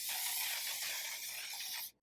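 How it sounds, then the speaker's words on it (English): One Size On Till Dawn setting spray hisses in a single steady, close burst of fine mist lasting nearly two seconds, then cuts off sharply, with no talking. "Now I'm going to go in with a setting spray I've really been enjoying"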